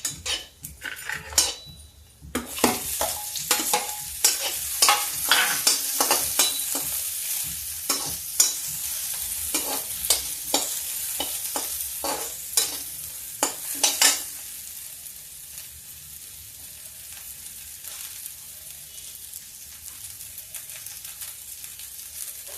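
Onions fry in a kadai while being stirred, with a steady sizzle and frequent metallic scrapes and clinks of the spoon against the pan. The scraping stops after about fourteen seconds and the soft frying hiss carries on alone.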